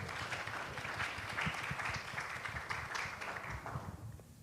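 Audience applauding at a panel discussion on integrating small businesses in Haiti, a faint, steady patter of clapping from a modest crowd that tapers off at the end.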